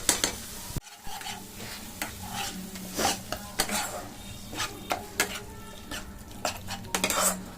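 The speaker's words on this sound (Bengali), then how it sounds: "এবার এটাকে ভালো করে ভাজা করব, মশলাটা ভালো করে ভাজুক" Ginger garlic paste frying in a pan for a Bengali bhetki fish dish, a constant sizzle broken by frequent metal spoon scrapes and clinks against the pan, close and loud without speech.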